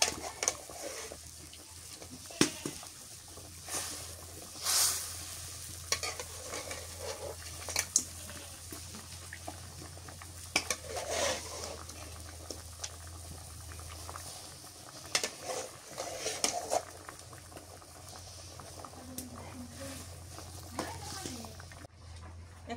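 Fish going into a thin, bubbling curry broth in a home kitchen, with steady soft boiling and bubbling throughout, scattered clinks and stirring taps, and a low hum underneath.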